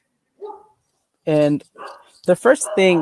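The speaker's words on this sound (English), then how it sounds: "sorry for the dogs" Dogs yip and bark in short bursts behind a speaker presenting at a tech conference, a few sharp barks and a whimper scattered among speech.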